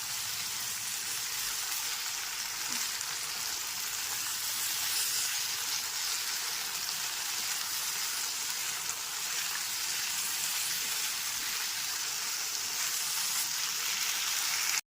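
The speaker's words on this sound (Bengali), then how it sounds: "কড়াইশুঁটিটা দেওয়ার পর 3 থেকে 4 মিনিট খুব ভালো মতো একবার নাড়াচাড়া করে নিয়েছি" Green peas stirred and fried in a spice masala in a kadai for Bengali aloo dum with small new potatoes, giving a steady, even sizzle and hiss throughout with no talking.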